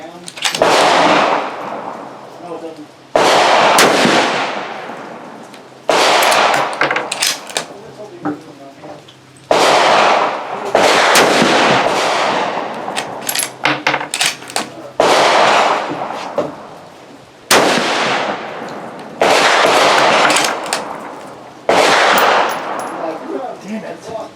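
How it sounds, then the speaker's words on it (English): Several loud, sharp rifle shots from a Mossberg Patriot chambered in 22-250, fired outdoors at a target, each crack ringing into a long decaying echo, spaced a few seconds apart with brief talk between them. "So we're out here with a Mossberg Patriot chambered in the 22 250."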